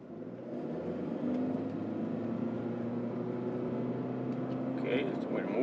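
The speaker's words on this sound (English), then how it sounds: "the engine constantly revs, and the CVT gearbox, it tends to keep the revs on the higher side" A 2011-2017 Lexus CT 200h hybrid hatchback's engine drones at steady high revs through its CVT gearbox during a launch, a continuous muffled hum heard from inside the cabin without clear rises or falls.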